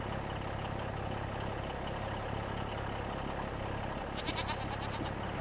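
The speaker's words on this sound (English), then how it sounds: "You hear the goats?" Goats bleating in the dairy barn of the video game Farming Simulator 25 on the Riverbend map, faint repeated calls over a steady engine idle hum, with a brighter cluster of bleats near the end.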